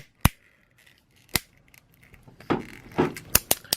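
The ratcheting waist joint of a Play Arts Kai Timeless Bushido Batman action figure gives sharp, isolated plastic clicks, a few spaced single snaps and then a quicker cluster of small clicks and rubbing at the end, close and fairly quiet.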